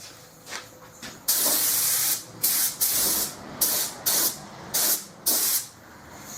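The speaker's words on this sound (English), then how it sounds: "Let's wait 5 minutes for that to tack off" Repeated short blasts of spray paint hiss up close, one longer burst followed by a quick run of brief sprays with gaps.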